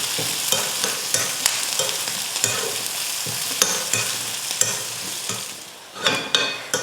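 Chopped onions and green chillies with garlic and curry leaves being stir-fried in hot oil, a bright crackling sizzle broken by regular scraping strokes of a spatula against the pan, close and fairly loud.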